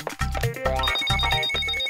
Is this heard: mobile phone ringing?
yes